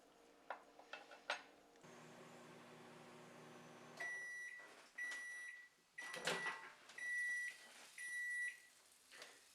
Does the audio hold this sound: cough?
no